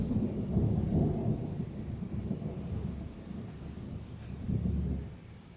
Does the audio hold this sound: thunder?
yes